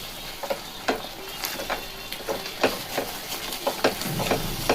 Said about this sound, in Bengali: এবার খুব ভালো করে এখানে মিশিয়ে নেব।